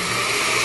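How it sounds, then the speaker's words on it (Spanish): A kitchen blender whirring steadily while liquidizing wet ingredients with egg for homemade banquet bread dough, a loud continuous motor drone with no pauses. "Todo esto lo llevamos a licuar."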